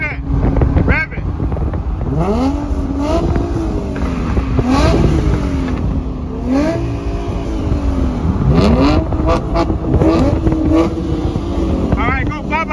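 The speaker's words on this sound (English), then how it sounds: "Rev it! Rev it!" Infiniti G35 coupe with a P0011/P0021 cam timing fault revving outdoors, engine pitch sweeping up and down in repeated surges over steady wind noise, with people talking nearby.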